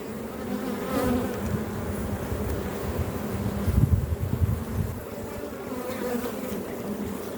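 Honeybees buzz continuously around an open hive during an inspection, a dense droning hum that swells and fades at close range, with no voices.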